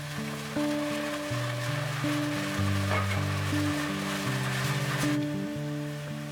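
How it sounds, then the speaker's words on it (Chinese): Pickled cabbage, chili and vegetables bubble and sizzle in a pot, a steady simmering hiss running under background music. "加入酸菜、 辣椒， 把蔬菜煮熟，味道都煮出来。"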